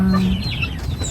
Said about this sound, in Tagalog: Kubra na manok. Walang leeg, walang balahibo ang leeg.